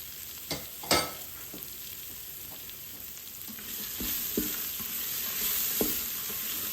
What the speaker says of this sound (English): I'm going to add my onions to this mixture here.